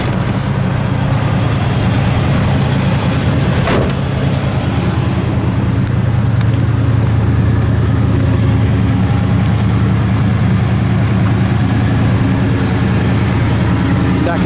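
A 1970 Oldsmobile 442 with a 455 engine idles steadily through its tailpipes, a loud, continuous low rumble that holds even for the whole stretch, with a brief sharper sound partway through and faint voices underneath.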